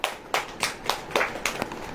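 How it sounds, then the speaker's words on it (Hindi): An audience claps in a sermon hall, with a run of distinct, fairly close hand-clap bursts coming in a loose, uneven rhythm, about six or seven strikes in two seconds. "ताली बजनी चाहिए भाई।"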